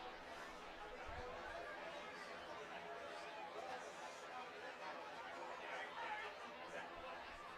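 A thinned-out crowd murmurs and chatters faintly and steadily at a baseball stadium in White Center during a game between the Seattle Blackfins and the Dubsea Fish Sticks, with no single voice standing out.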